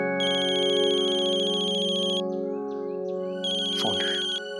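A telephone ringtone rings twice in a bright electronic melody, close and clear, with a short pause between the bursts and a brief clatter as the phone is picked up.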